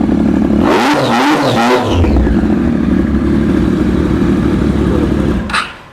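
A three-cylinder motorcycle engine fitted with an SC-Project exhaust revs hard in quick bursts, then holds a rough, uneven howl before cutting off near the end.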